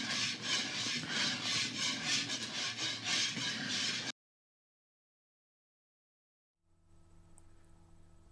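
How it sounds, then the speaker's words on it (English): Whisking German chocolate cake frosting, a mixture made with pecans and coconut, gives a steady, busy scraping rhythm for about four seconds, then stops dead into silence before faint background noise returns. "this mixture here that I'm constantly whisking is what you use for the frosting"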